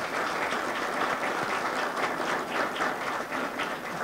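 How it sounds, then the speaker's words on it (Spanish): Crowd applause at a school exhibition of handcrafted products, a steady dense wash of many hands clapping that holds at an even level without pause. "vamos a darles un aplauso."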